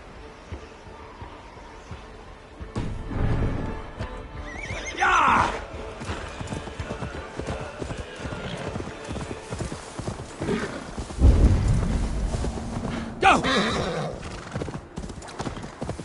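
A horse in the Assassin's Creed Valhalla video game whinnies loudly and clops its hooves in a steady rhythm, with a voice speaking over parts of it.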